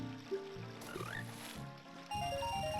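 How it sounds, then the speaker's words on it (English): Frog croaks from big frogs in The Legend of Zelda: Ocarina of Time, short burbling calls under bright in-game music, fairly close and clear. "That's 2 big frogs."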